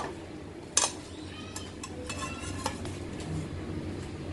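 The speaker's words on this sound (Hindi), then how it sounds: "अब इसको सर्विंग प्लेट में डालेंगे।" A freshly made tawa sandwich is set down on a serving plate, giving one sharp clink of dish contact followed by a few lighter taps and clatter against a quiet kitchen background.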